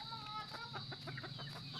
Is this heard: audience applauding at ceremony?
no